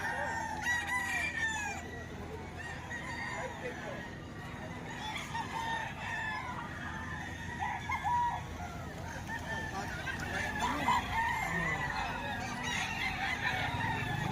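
Dense chorus of roosters crowing, gamecocks packed together at a busy gathering in Lipa, Batangas, with repeated overlapping crows and clucks near and far over steady murmuring voices.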